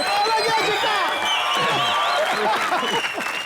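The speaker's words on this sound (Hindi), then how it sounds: "जोरदार तालियां एक बार शाहरुख भाई के लिए।" Loud studio audience applause with cheering for Shah Rukh on a Hindi comedy talk show, dense steady clapping filling the stretch with crowd voices mixed in.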